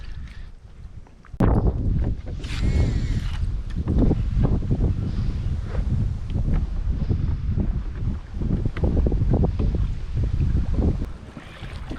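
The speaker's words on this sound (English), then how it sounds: "Wind's picked up a little bit." Wind gusts across the Murray River around a pedal-driven fishing kayak, a steady broadband rush with buffeting on the microphone, loud and continuous after a quieter opening, with occasional water and hull knocks.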